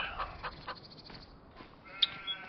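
Sheep on a video game farm bleat quietly in a few short calls over faint ambient noise, with one brief bird chirp.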